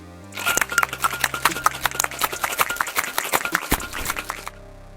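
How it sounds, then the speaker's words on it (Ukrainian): Rapid rattling clatter of ice knocking inside a cocktail shaker while making an Espresso Martini with vodka, shaken vigorously for several seconds before stopping abruptly. "Після чого робимо тривалий шейк протягом 20 секунд."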